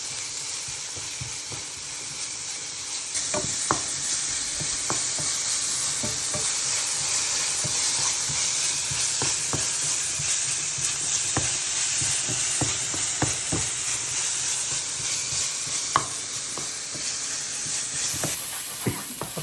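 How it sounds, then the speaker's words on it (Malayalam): Ginger, garlic and green chilli paste sautés in hot oil, giving a steady hissing sizzle punctuated by irregular spoon scrapes and taps against the pan, with no voices. "ഇഞ്ചിയും വെളുത്തുള്ളിയും പച്ചമുളകും കൂടെ അരച്ച് വെച്ചിരിക്കുന്ന പേസ്റ്റ് ചേർത്തിട്ട് പിന്നെയും നന്നായിട്ട് വഴറ്റണം"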